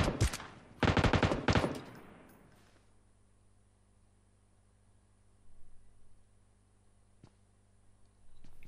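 Rapid bursts of automatic gunfire in the mobile battle royale game PUBG Mobile, loud and close over the first two seconds, then trailing into quiet with a few faint distant shots later.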